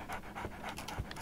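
A dog pants in a Sherlock Holmes video game, with quick, steady breaths repeating close and clear for about a second, with no talking.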